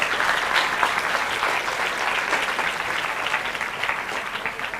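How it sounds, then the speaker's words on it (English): A school hall audience gives the NASA project team at The Orchid School presentation a big, steady round of applause, dense clapping sustained evenly from start to finish. "Can we have a huge round of applause for the NASA team?"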